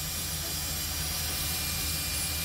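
A jackshaft steam locomotive at a sugar mill in Java, Rejosari, blows off steam from its chimney in a steady, loud roar that holds for the whole stretch.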